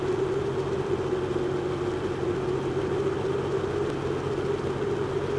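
A propeller aircraft engine in Flight Simulator X runs at reduced throttle, giving a steady, even drone with a low hum that holds constant throughout, with no voices.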